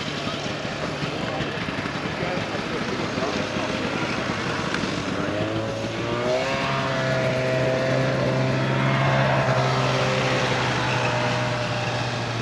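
Engine of a 1981 Kawasaki Invader 440 vintage snowmobile at an outdoor snowmobile show, a buzzing two-stroke drone that rises in pitch midway, heard amid crowd murmur.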